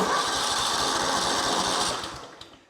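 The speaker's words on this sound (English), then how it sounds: "So let's go ahead and crank it over and see what happens." A Kohler Command small engine cranks steadily for about two seconds without catching, a continuous loud whirring starter drone that then winds down and stops.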